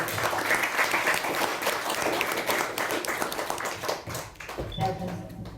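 Audience applause at a club meeting as the president is welcomed onto the stage, steady dense clapping filling the room for several seconds, easing slightly near the end as a voice begins to speak.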